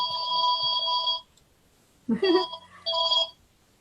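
A mobile phone rings loudly and close by with a bright electronic ringtone, sounding in two bursts separated by a short silence.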